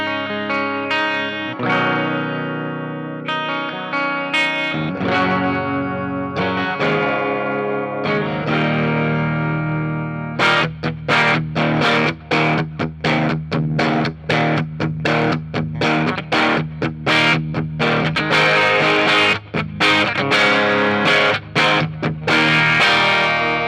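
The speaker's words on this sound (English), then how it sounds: "strumming this thing, it definitely has that active, chimey, boisterous sound to it" A 2011 Gibson Vampire Blood Moon Explorer electric guitar rings out through an amp on a clean channel, sustained chords giving way to rhythmic strummed chords, bright and close, played alone with slight breakup.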